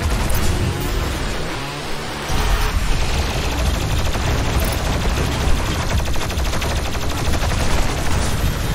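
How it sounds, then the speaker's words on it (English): Dense, loud gunfire and blasts in Doom Eternal gameplay, with the shotgun booming amid a relentless barrage of combat noise that barely lets up. "I love this shotgun so much"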